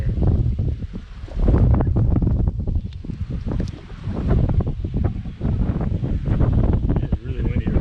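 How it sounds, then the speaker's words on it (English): Strong wind gusts buffet the microphone at outdoor beehives during a hive inspection, with a steady low roar rising and falling throughout. "It's really windy over here."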